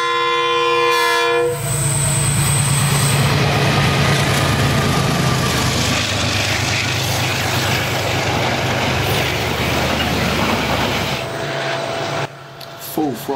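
A train horn sounds loudly, then the TranzAlpine Express, a heavy passenger train, rumbles past nearby at Inchbonny, New Zealand, with a steady roar that fades toward the end.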